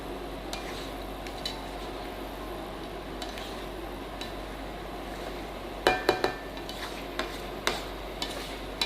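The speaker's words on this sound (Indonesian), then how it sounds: "Ya, kita aduk terus" Shrimp in thickening sweet soy sauce with sugar is stirred in a pan, a soft continuous sizzle with a run of sharp utensil clinks against the metal late on.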